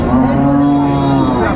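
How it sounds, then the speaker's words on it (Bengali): A cow lowing loudly and close at a busy cattle market in Dhaperhat, Bogura, where dairy cows and calves are sold, one long steady moo over a dense background crowd hum. "গাভী বাছুর আমরা দেখছিলাম এখানে।"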